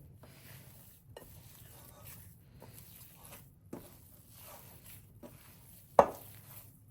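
Mozzarella being mixed into Brazilian cheesy bread dough in a bowl, soft wet squishing and stirring strokes at close range, then a sharp knock near the end.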